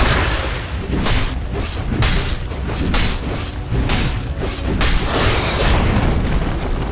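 Explosive booms and mechanical crashes from a tower being destroyed in Dota 2, a dense, loud burst of layered impacts and rumble that continues steadily without talk.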